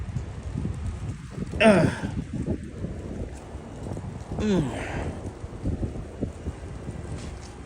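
Steady outdoor wind rumble with low gusty buffeting across the microphone, plus a couple of brief voice-like bursts in the middle.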